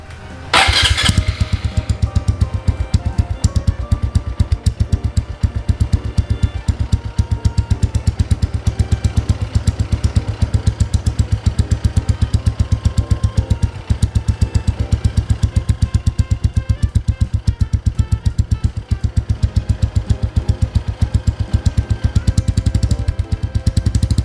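A Honda Wave 125i motorcycle with a stock exhaust cranks and catches in one try, then settles into a loud, steady, throbbing idle that runs uninterrupted close to the listener.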